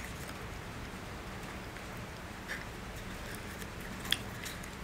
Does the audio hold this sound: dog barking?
no